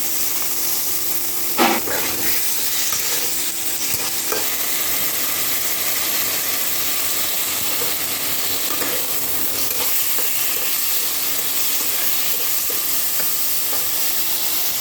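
Vegetables fry in a pan with turmeric and salt and a splash of water, giving a steady, close hiss and sizzle throughout, with one sharp clank of a utensil early on.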